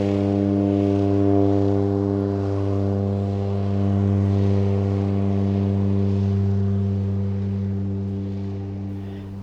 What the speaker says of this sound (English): the sound of a BC ferry whistle from an approaching ship among the islands